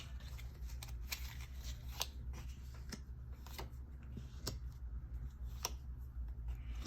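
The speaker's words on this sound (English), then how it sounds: "Let's pull the rest of the cards." Tarot cards being drawn from a deck, soft, faint snaps and shuffling flicks scattered irregularly over a low background hum.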